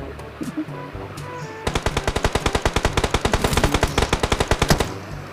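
Rapid automatic video game gunfire rattles in a long, evenly spaced burst after a few scattered single shots, loud and close.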